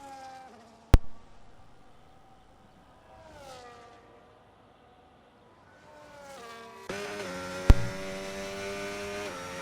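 Formula 1 cars in a racing video game pulling out of the pit lane at the Qatar Grand Prix, engines whining and rising in pitch as they pass one after another, with two sharp clicks; no speech.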